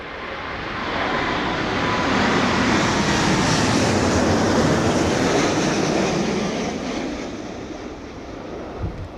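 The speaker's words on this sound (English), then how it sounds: "777-200 Rolls-Royce powered American Airlines." A Rolls-Royce powered American Airlines Boeing 777-200 roars past at London Heathrow during Storm Darragh, a broad, loud jet rumble that swells and then fades away, with wind noise and no talk.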